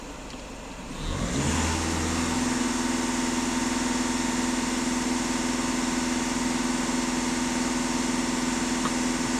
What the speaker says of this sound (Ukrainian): Даю газ в пол.